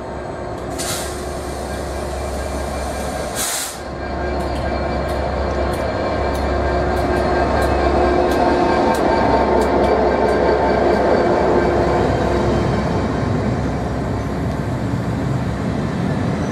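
A train at Chichester railway station makes a loud, steady rumble with rhythmic clicks of wheels over rail joints, and a few sharp bursts near the start.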